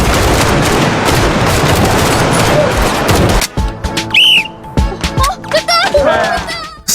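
Gunfire at a school shooting range from the drama Duty After School: a dense, loud barrage of shots fills the first half, then scattered bursts and whistling tones follow with gaps between them.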